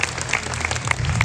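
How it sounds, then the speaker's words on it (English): Brief burst of audience applause at Gardeners' World Live, a crowd clapping steadily for a speaker with some low background murmur underneath. "Give Carol a round of applause."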